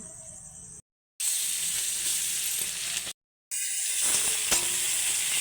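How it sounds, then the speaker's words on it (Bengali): Steady loud sizzling of chicken frying in hot oil in a kadai, broken by two short silent gaps, then the hissing crackle resumes unchanged. "কড়াই বসিয়ে দিয়েছি, দেখতেই পাচ্ছেন তেল গরম হয়ে গেছে। চিকেনগুলো এবার দিয়ে দেব।"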